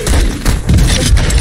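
Fennec submachine gun fire in the Modern Warfare 2 video game: loud, dense bursts of rapid thumping shots filling the moment at close range.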